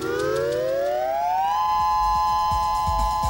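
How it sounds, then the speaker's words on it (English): A powerful tsunami warning siren rises steadily in pitch, then holds a loud sustained wail, with faint rumbling noises underneath. "Sirens sound alarms when a killer wave is going to strike land."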